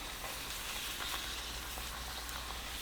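A tortilla taco shell fries in hot oil, giving a soft, even, continuous sizzle that stays fairly faint and steady throughout with no talking.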